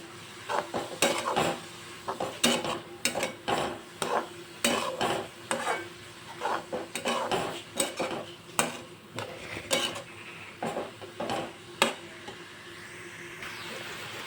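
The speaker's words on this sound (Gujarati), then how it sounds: "હવે આપણે બધા જ શાકભાજીને મિક્સ કરી લઈશું।" A spoon scrapes and clatters through capsicum and half a cup of corn in a pan with a steady, repeated rhythm over a soft sizzle, close and fairly loud.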